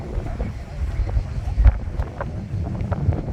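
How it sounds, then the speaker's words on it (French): Gusty wind rumbles against the microphone in low, uneven bursts, with occasional faint knocks and distant outdoor sounds underneath. "Pas mal de vent ici."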